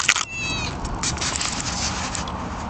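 A cat meows in a short, clear cry near the start, with steady background noise continuing after it.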